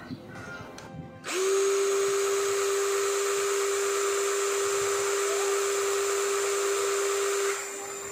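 Bitec BID1 cordless impact drill spinning up to its high-speed setting: a steady, loud, even motor whine that holds constant for about six seconds before easing off, with faint handling noise at the start.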